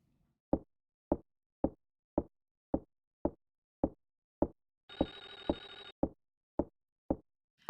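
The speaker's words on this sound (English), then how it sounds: "there was a phone ringing." In a video game, a phone rings in a single short electronic burst about a second long, cutting through a steady series of evenly spaced dull thuds like footsteps, no speech.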